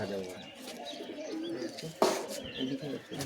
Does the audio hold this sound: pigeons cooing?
yes